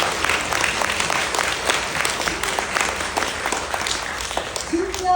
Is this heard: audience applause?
yes